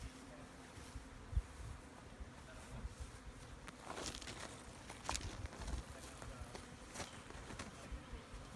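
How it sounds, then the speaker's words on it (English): Honeybees buzz faintly as they are shaken off frames of new comb during hive splitting, a low steady drone with scattered knocks and handling bumps. "I want to shake all these bees off"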